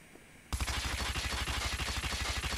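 A gun fires from the hip in a video game. After a brief quiet moment, a loud, rapid, evenly spaced stream of automatic shots runs steadily for about two seconds.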